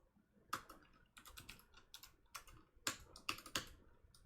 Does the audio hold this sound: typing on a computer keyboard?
yes